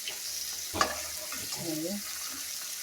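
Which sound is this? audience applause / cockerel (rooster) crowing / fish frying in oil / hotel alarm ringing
fish frying in oil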